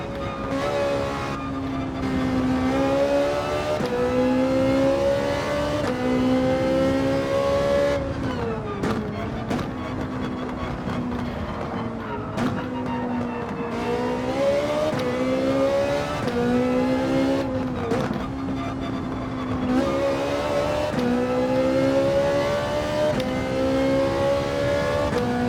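GT3 race car engine in Gran Turismo 7, loud and close, revving hard through repeated rising gear pulls with brief dips at each shift and the tone climbing steadily through the run.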